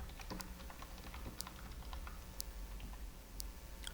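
Fingers type on a computer keyboard while data is entered into an Excel spreadsheet, producing quiet, irregular key clicks with a few sharper taps, heard close up in a silent room.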